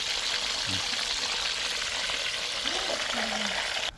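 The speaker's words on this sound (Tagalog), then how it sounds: "bali ayan yung bangus na piniprito niya" Milkfish (bangus) frying in a pan, a loud, even hiss of hot oil that holds steady for a few seconds before dropping off, with brief faint voice-like sounds in the background.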